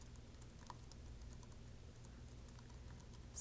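Quiet computer keyboard typing during online client intake form entry, with faint scattered key clicks over a low steady hum, no talking.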